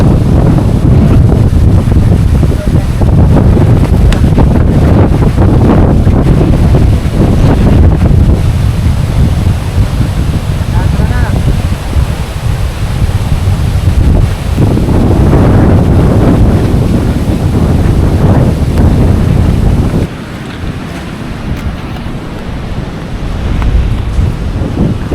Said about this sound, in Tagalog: Dadaan muna kami dito sa tabing dagat sa Umawas.